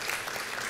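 Applause from a conference audience, a brief, dense patter of clapping across a hall.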